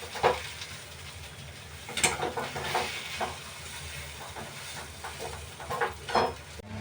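Chopped vegetables cooked with plenty of chilli and a pinch of cumin powder sizzle steadily in a hot pan, with scraping bursts each time they are flipped and stirred; no one speaks.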